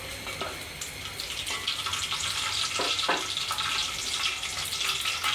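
Whole garam masala spices (bay leaves, cloves, cardamom and cinnamon pieces) drop into hot oil for a beef and chickpea lentil curry, giving a continuous hiss and crackle of frying at moderate volume.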